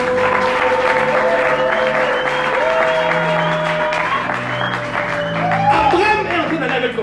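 A church congregation cheering and clapping in praise, a loud, sustained wash of applause and voices with tonal cries rising over it, continuing for several seconds.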